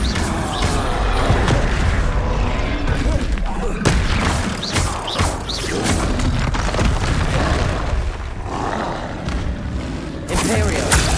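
Bombarda blasting spell detonations in Hogwarts Legacy: a string of heavy booms and thuds over loud, continuous game action, with occasional voices in the mix.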